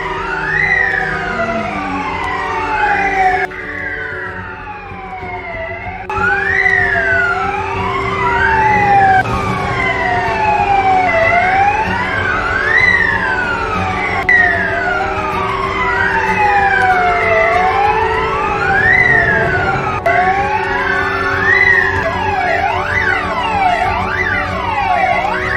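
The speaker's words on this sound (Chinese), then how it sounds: "外面警报响成一片" Hotel alarms wail nonstop after a sudden power cut, several loud electronic sirens sweeping up and down and overlapping in a dense, relentless chorus heard from indoors, with no talking.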